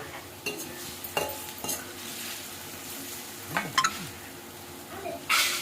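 Spoon stirring spices into a bowl of yogurt in a home kitchen, soft wet scraping and light clinks of utensil against the bowl, close and fairly quiet, with a faint tonal background hum.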